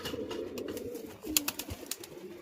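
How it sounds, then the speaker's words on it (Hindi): Pigeons coo in soft, low repeated murmurs close by, with a few sharper flutters or clicks partway through. "बाकी अपने सारे कबूतरों को निकालते हैं बाहर"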